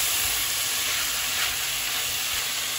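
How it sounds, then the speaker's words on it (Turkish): Meat and chickpeas sizzle steadily in a pot while being stirred, a dense continuous frying hiss with no talking. "Karıştırıyorum."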